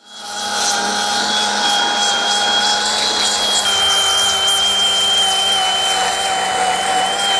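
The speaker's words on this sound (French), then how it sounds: "J'ai du coup fait le plus gros avec ma petite ponceuse à bande comme ça." A small belt sander works steadily over a wooden mirror frame, its loud continuous whine and abrasive rubbing holding without pause throughout.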